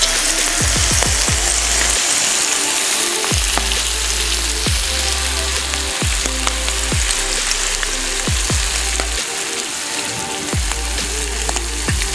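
Bison burgers and buns sizzle on a hot griddle with a steady, loud frying hiss. Occasional scraping clicks recur now and then, and no one talks.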